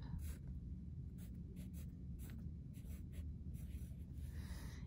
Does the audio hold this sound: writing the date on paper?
yes